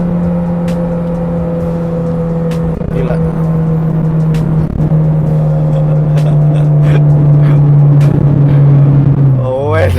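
An old Japanese car engine drones loudly and steadily near the listener, revving to 9,000 rpm, its pitch holding high before dropping sharply at the end, with a brief spoken word over it.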